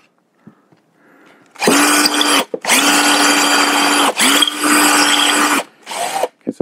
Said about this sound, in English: I took my drill bit and I just angled it a little bit towards the top